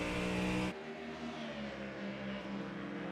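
A Ford Mustang race car accelerates during a GT race. Its engine note changes sharply, then a steady, moderately loud roar follows with the pitch climbing gradually.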